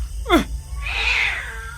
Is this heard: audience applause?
no